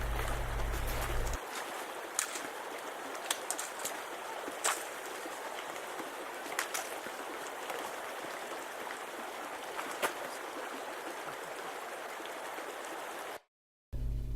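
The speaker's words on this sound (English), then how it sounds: "Here is the last major stream crossing of the trip." Flint Creek flowing steadily at a major stream crossing in the Weminuche Wilderness, a continuous broadband rush of water heard up close with no talking, briefly cutting out near the end.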